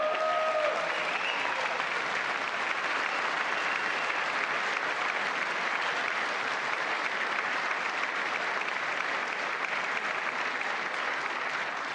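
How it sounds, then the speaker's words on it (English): Large audience in a chamber during a State of the Union address giving a long, steady ovation, a thick even roar of clapping held at constant loudness from start to finish, with no speech over it. "I wasn't sure if anybody even on this side was going to applaud for that."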